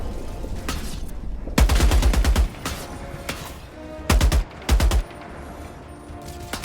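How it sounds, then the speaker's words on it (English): Three loud bursts of rapid fire come from a tank's machine gun in the video game Helldivers 2, one longer and two short, set over a game background hum. "it also has a freaking machine gun?"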